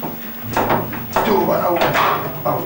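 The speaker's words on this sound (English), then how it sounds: "we've opened the door now" An old church door is tried and pushed open. Several wooden knocks and creaks sound close by in an echoing space, and people talk over them.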